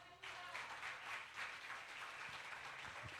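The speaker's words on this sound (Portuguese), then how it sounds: "Dê um aplauso ao Senhor Jesus." A church congregation breaks into steady applause that swells at once and holds as a dense, continuous wash of clapping filling the room.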